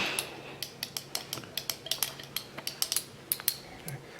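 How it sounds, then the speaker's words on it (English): A glass stirring rod clinks against a glass container in rapid, irregular taps while mixing a solution with undissolved solid in a chemistry lab, close and fairly quiet. "it says mix with a stirring rod"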